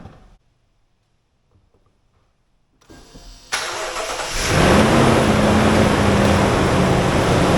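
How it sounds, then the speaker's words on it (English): Lexus GX460 engine starting after a quiet stretch with faint clicks: starter crank, then the engine catches and settles into a steady, loud idle that holds close and continuous to the end. "All right, we start the vehicle"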